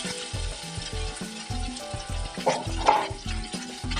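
Chopped tomato frying in a pan gives a steady close sizzle, with rhythmic low clattering from a spoon or pan about twice a second and a slightly louder stir near the middle; no one talks.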